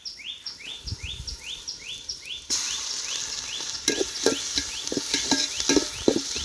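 Ginger and garlic frying in a pan for mutton porridge, a sudden burst of sizzling followed by stirring clatter, with birds chirping repeatedly in the background of an outdoor village setting.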